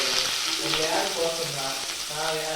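Onion, cumin seeds and curry leaves fry in a little hot oil, giving a steady close sizzle and hiss for the whole stretch, with faint tonal sounds in the background.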